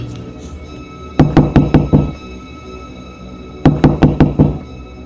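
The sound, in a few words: knocking on a gate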